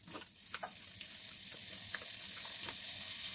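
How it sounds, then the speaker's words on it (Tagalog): Vegetables with garlic and onion sizzle steadily in a hot pan for springrolls filling, a continuous close frying hiss with occasional light stirring clicks, no talking. "igigisa ko na yung mga gulay. Then, bawang sibuyas"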